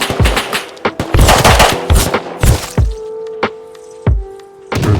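Gunfire in the survival video game Rust: loud, close bursts of rapid automatic shots with sharp single cracks and thuds, followed by a sustained ringing tone between later shots.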